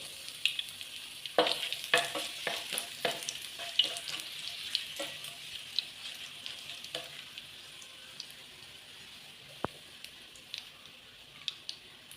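Two green chillies fry in hot oil with popped mustard seeds for an Onam sadya inji curry, giving a soft continuous sizzle scattered with crisp spits and crackles that thin out over time.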